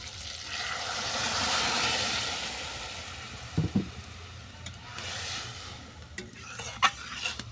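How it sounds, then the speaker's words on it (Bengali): Lentils tipped into a pot of fried spinach, prawns and spices for palong shaker dal, then stirred, giving a soft wet sizzle with a few sharp spoon-on-pot scrapes and knocks toward the end. "সমস্ত উপকরণ ভালো করে ভেজে নেওয়ার পর আমি তুলে দিচ্ছি ডাল"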